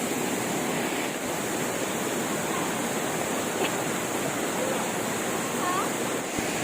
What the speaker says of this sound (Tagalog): Kita niyo ay falls.